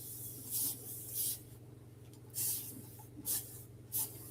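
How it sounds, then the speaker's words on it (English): A spray bottle misting water onto paint brushes, including a cheap Wooster 1-inch brush, five short close hissing squirts at uneven intervals over a low steady hum. "I find it spraying them keeps you from getting them too wet."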